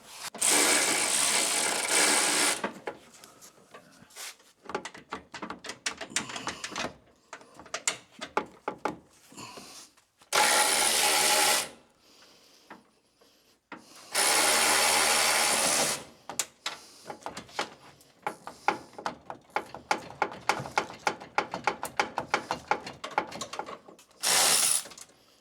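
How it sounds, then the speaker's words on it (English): A ratchet wrench works a tight bolt during the teardown of a 2022 Dodge RAM truck, with fast clicking pawl strokes in bursts between several loud, sustained spells of air-tool whirring, close and harsh with no talk. "See if you can break it loose where I can get on it with the ratchet."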